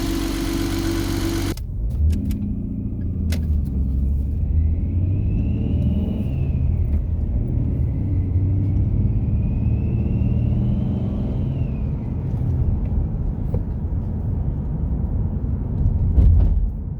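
A twin-turbo Ford Mustang on a drive, heard from inside as a steady low engine rumble and road drone that holds nearly even throughout, with a faint whine rising and falling and a brief loud noise at the start.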